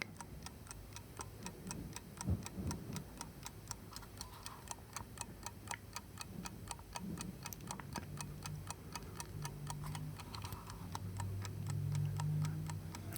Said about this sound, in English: I can hear this ticking in the background, and it's rather soothing.